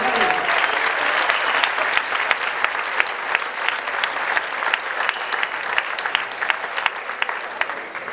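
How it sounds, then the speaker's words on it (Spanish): A large concert audience applauds steadily throughout, dense continuous clapping with a few sharper claps standing out, fairly loud and close. "un aplauso también para ellos."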